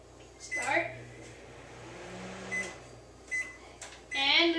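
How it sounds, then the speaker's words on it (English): A microwave oven hums steadily with a DVD sitting in water inside, broken up by door clatter, button beeps and a short crackling burst near the end. "I have my DVD in the water here, and I'm gonna put it in the microwave."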